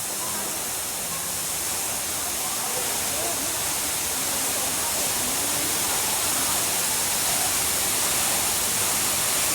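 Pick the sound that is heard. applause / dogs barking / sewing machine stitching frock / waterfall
waterfall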